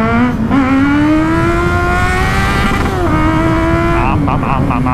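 A Kawasaki Z800e motorcycle accelerates hard, its engine note rising steadily through the revs, easing briefly, then climbing again, loud and close, as if heard from the rider's position.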